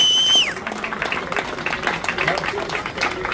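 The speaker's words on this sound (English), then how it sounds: "give yourselves a huge big clap for your valour, your courage and your commitment" Crowd applause and clapping at a protest demonstration, a moderate, even patter of many hands that begins after a brief high tone and continues with voices mixed in.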